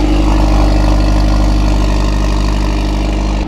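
A Mercedes A45s with an Akrapovic exhaust, resonator removed and valves fully open, idles loudly and steadily, a deep even burble with no talk, cutting off abruptly at the very end.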